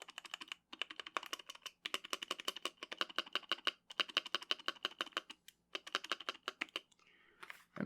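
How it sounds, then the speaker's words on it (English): Fast clacky typing on a Nuphy Halo 65 mechanical keyboard with a spacebar modded to be quieter, in steady bursts, with short pauses between runs of crisp keystrokes, close and clear. "And now we're gonna put the space bar back. And now this is what it sounds like."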